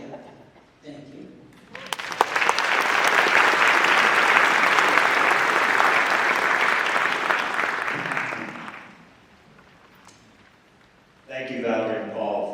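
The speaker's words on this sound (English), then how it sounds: "Let's give them another round of applause" A crowd at a community justice action gathering breaks into loud, sustained applause that swells quickly, holds for several seconds and then dies away, with a voice speaking before and after.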